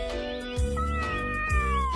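A stray cat meows twice, clear and close, each call a drawn-out wavering cry over low background rumble.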